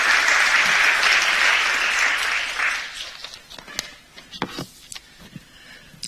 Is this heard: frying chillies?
no